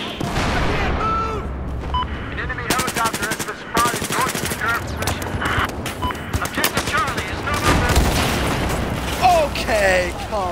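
Rapid gunfire in Battlefield 4, dense automatic bursts and booming shots close by, running almost without pause, with a voice talking over parts of it.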